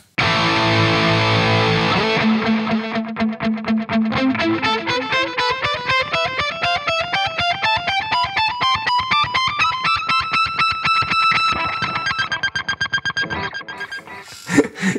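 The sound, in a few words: guitar dotted eighth delay effect on Kemper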